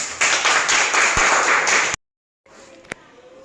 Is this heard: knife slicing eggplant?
no